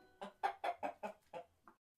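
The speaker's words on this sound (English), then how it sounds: "The giant went to the cupboard and pulled out a golden hen." A hen clucks in a quick run of about seven short, close, fairly loud clucks, with a softer final cluck after a brief pause.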